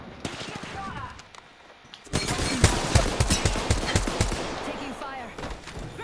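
Rapid gunfire in a shooter video game, quiet bursts at first, then loud dense automatic fire with sharp repeated cracks from about two seconds on, layered with other game sounds and no clear talk.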